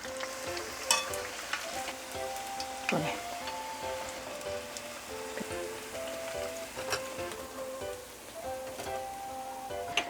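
Shrimp toast deep-frying in oil at around 100 degrees, a steady crackling sizzle with scattered pops, close up, with background music running throughout.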